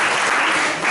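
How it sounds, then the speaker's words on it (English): Club members applaud together, a dense, steady wash of clapping that stays loud and close for the whole short burst, tapering only slightly near the end. "give it a big round of applause."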